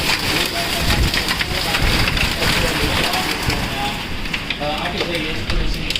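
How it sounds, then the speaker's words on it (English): Quarter-size hail pelts down in a windy Oklahoma storm, a dense continuous roar of rain and ice hitting surfaces, loud and unbroken, with a person talking over it. "It's hailing right now."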